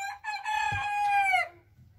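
A rooster crows once, loud and close, a single drawn-out call that breaks off abruptly at the end.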